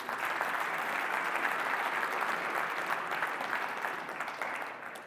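An audience at a technology awards ceremony applauds the growth category finalists, a dense, continuous wash of clapping holding steady throughout before tapering slightly at the end.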